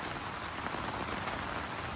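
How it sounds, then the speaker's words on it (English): Steady rain patters on an aluminum pergola, a dense, even hiss of drops with no pauses, moderately loud and close. "As you can see, our rain's coming down a little more."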